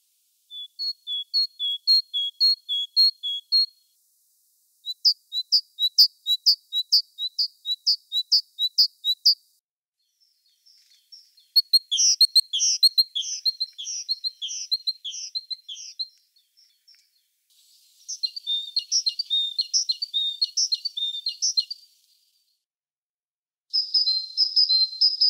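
Great tit (Parus major) singing alone: bright repeated two-note phrases in fast rhythmic bursts, then varied chattering and trilled calls. It is clear and fairly close, with short silent gaps between phrases.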